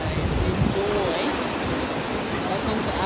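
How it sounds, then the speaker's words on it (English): Ocean waves washing onto the beach at Takoradi, Ghana, a steady, broad surf wash heard nearby without pause, with some wind across the microphone. "So we finally made it to the beach in Takoradi."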